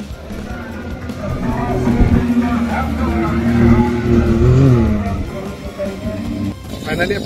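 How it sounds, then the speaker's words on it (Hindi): A Land Cruiser desert safari vehicle in Dubai rolls in close by, its engine rumbling and swelling as it arrives, with people talking over it. "फाइनली अपनी गाड़ी आ चुकी है"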